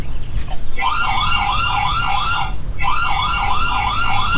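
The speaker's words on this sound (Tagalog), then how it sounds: "bukod kay Jampol at kay Jaymon, pwede nating i-on yung alarm niyan at mag-alarm siya for 30 seconds." A solar-powered 4G CCTV camera on a farm sounds its alarm siren, a loud warbling electronic wail in two rising-falling bursts separated by a brief gap.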